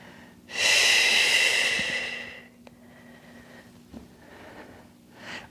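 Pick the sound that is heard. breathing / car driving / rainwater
breathing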